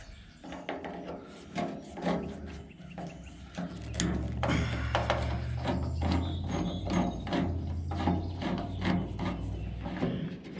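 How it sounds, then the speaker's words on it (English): Three screws come out of the door latch mechanism of a 1954 Chevy 3100 truck, heard as close, rapid ratcheting clicks and scraping metal, quieter at first and then a denser, louder run of clicks with no talking. "take these three screws out of the latch mechanism"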